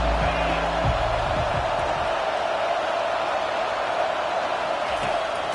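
Stadium crowd at a TCU vs Wisconsin college football game roars in a steady, loud, dense wash of noise that holds throughout without letting up.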